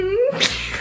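A single short, sharp sneeze close by, a quick rising voiced burst followed by a breathy hiss, under a second long.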